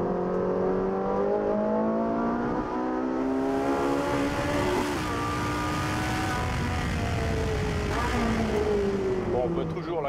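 Ferrari 458 Italia V8 engine under steady load inside the cabin as the automatic gearbox works down from fifth through fourth to third, engine pitch stepping between gears, with someone talking over it throughout.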